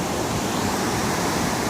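Floodwater from 13 inches of rain in two hours rushing over Sandy Creek's low water crossing, about 15 feet above normal, a loud, steady broadband roar with no break, heard up close.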